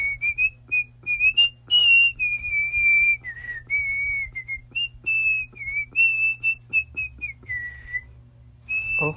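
Someone whistles a meandering tune in short, clear phrases close by, over a low steady hum.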